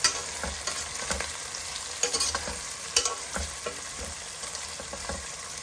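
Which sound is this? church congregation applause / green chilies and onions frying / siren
green chilies and onions frying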